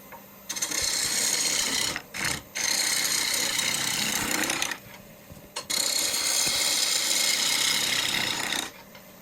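A lathe turns a black locust hardwood bowl, giving loud, steady bursts of gritty, scraping cutting noise that stop briefly twice and then resume, throwing chips off the spinning wood.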